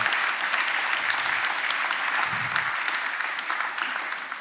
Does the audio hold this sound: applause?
yes